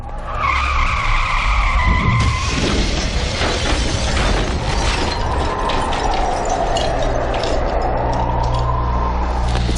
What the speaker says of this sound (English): Accelerating car to a high speed.